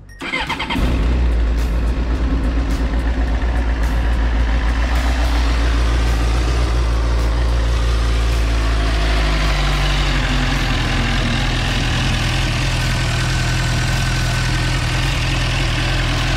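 A Suzuki GSR 600 motorcycle engine, freshly filled with new oil, fires up and settles into a steady, loud idle, close by, rumbling continuously with no voices.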